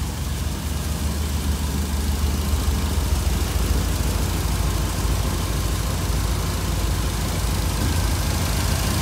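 A 1966 Cadillac engine fitted with a Holley Sniper IAC idles steadily up close, giving a continuous low rumble with faint vibration and no clear rise or fall.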